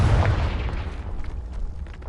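A Confringo blasting spell exploding in a video game: one loud, deep boom right at the start that rolls off into a rumbling, crackling decay.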